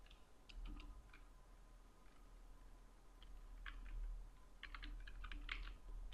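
Light keys clack on a computer keyboard in short scattered bursts of taps, fairly close and soft, separated by brief pauses over a faint low hum.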